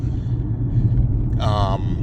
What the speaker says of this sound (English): damn, look at the size of that truck, yo